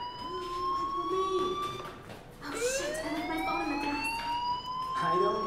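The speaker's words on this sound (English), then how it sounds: "Hey, do you hear that fire alarm?" A school fire alarm in the video game Life is Strange wails on and on in rising, falling electronic sweeps, loud and steady, with a voice speaking over it.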